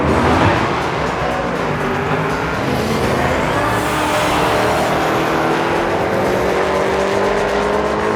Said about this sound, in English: we're gonna do some BNP exhibition drag racing